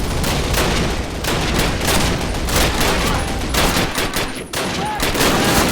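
Dense, continuous rapid gunfire rattles nonstop with overlapping bursts and booms, a loud chaotic barrage of anti-aircraft fire in Call of Duty, during a paratrooper mission.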